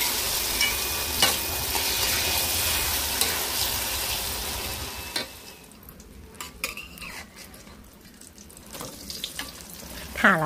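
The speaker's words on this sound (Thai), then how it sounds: "เดี๋ยวเราก็จะนำไข่ของเราไปทอดกันค่ะ" Beaten egg omelette with acacia shoots fries in a pan, a loud steady sizzle and crackle for about five seconds, followed by quieter scraping and stirring sounds with scattered clinks.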